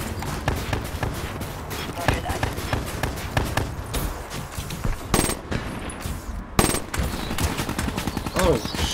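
Video game gunfire crackles in a zombies-style shooter, with rapid automatic bursts and single shots near and loud, mixed with other game sounds.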